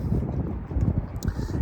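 Wind blows outdoors by the tunnels in Las Vegas, buffeting the microphone in a loud, low rumbling roar with gusty swells over a short stretch, and no voices are heard.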